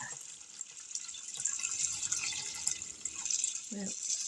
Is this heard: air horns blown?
no